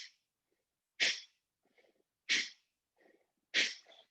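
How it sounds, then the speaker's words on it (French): Bhastrika forced yoga breathing, three sharp forceful exhalations a little over a second apart, each followed by a softer quick inhale, close and alone. "on va travailler avec la respiration Bastrika, qui est une respiration forcée"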